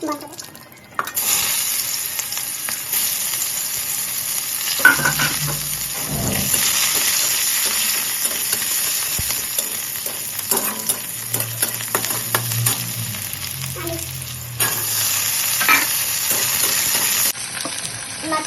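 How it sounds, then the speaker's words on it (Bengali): Fish heads fry with onion and spices in hot oil, a loud continuous close sizzle with repeated stirring scrapes and clatters throughout, with no voices over it. "ভালো করে তেল ছাড়া অবধি ভাজতে হবে"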